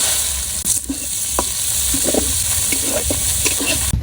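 Chopped onion frying with spices in oil left over from frying fish in a village kitchen, with a continuous close sizzle and intermittent stirring clinks and scrapes.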